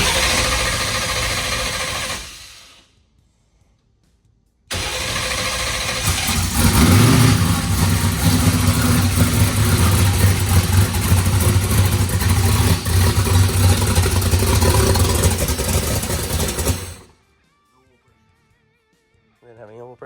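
A car engine, just repaired after a huge oil leak, cranks briefly, then after a pause starts with a loud, close roar and runs rough and steady for about twelve seconds before cutting off abruptly.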